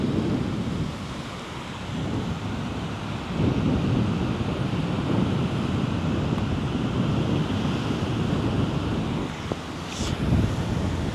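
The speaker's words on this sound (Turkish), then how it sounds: "Rüzgarlı bir havada çekim yapıyorum." Strong, roaring wind buffets steadily with a broad rushing noise, mixed with the wash of surf at the seaside in Pattaya, continuous and loud throughout.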